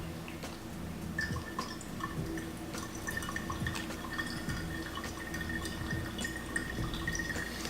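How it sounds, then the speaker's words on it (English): Hot water trickles slowly and steadily over coffee grounds in a pour-over brewer, about 300 grams poured in a thin, quiet stream with soft dripping and splashing, close by. "take the rest of our water, which should be about 300 grams total, give or take 10 ounces. And again, slowly pour."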